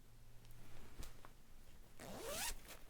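A zipper on a handmade fabric project bag, its pull tipped with a sewn bow tab, gives a faint close rasping zip with small ticks and a quick rising pull near the end, quiet overall.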